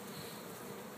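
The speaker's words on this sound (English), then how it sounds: "Okay, bees, go inside your home." Honeybees at the entrance of a newly installed hive hum in a dense, steady buzz, close and fairly quiet, with no voices over it.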